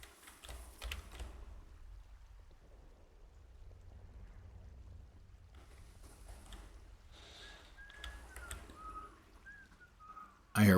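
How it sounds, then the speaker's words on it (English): In the video game Atomfall, enemies whistle faintly in the distance, several short, wavering whistled notes near the end, over soft keyboard clicking and a low background rumble. "I hear whistling, which is them."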